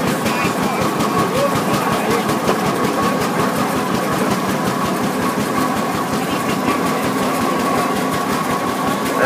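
A large antique prairie oil-pull tractor engine rumbles steadily in a parade, a loud, continuous low chugging heard up close with crowd and ambient noise around it.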